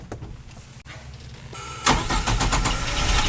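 A UAZ 3741 van's engine idles at raised revs during off-roading in Noormarkku, with a steady close mechanical drone that grows louder and rougher partway through and stays strong to the end, with no talk.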